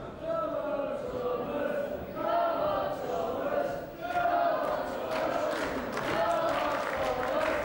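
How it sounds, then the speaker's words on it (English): A crowd at York Hall cheers and applauds during a Mosconi Cup pool match between Thomas Engert and Earl Strickland. The cheering is sustained and swelling, with waves of clapping and shouts throughout. "The crowd cheering on Thomas like a tank engine."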